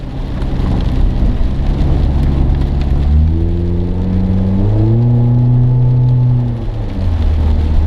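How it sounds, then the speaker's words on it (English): Rain and road noise while driving a car on bald tires, a steady loud wash throughout, with a rising and falling engine drone swelling through the middle. "Don't drive in the rain on bald tires"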